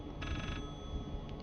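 Telephone ringing inside the horror game Layers of Fear, a short burst of bright electronic ring lasting about half a second over a low rumbling ambience, with a faint second chirp near the end.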